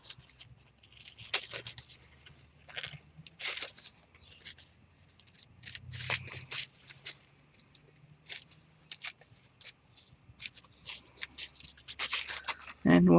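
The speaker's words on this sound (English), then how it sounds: "And we'll trim that off slightly." Scissors trim paper and a napkin in a series of short, crisp snips and rustles, spaced irregularly and heard up close, with a person talking quietly between cuts.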